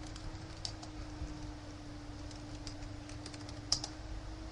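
Computer keyboard keys tapped in a steady patter as login details are typed for a VMware virtual machine, close and fairly quiet over a low constant hum, with one sharper key clack near the end.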